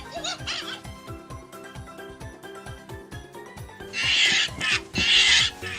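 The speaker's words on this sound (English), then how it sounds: "a larger 8-inch marmoset, who still has his sound box and still sounds pretty great" Sound box inside an 8-inch marmoset plush toy from an Angry Birds collection playing its recorded sound: a run of rhythmic hooting, chattering calls ending in brighter, louder squeals, moderately close and alone.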